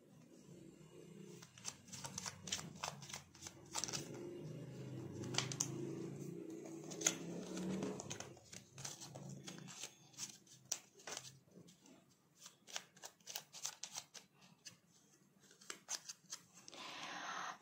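Ceki playing cards being shuffled and handled up close, a quiet run of crisp riffling and snapping bursts, some rapid clusters, others sparse, with no talking.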